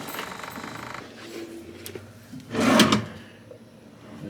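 A hotel room drawer slides open and shut with a soft wooden rumble and one louder scraping thud, close by in a quiet room.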